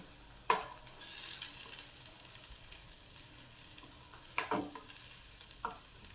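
Cashew paste going into a hot pan for cashew curry, a soft sizzle with a burst of hiss as it lands, then quiet stirring and a few spoon clinks against the pan, close and low in level.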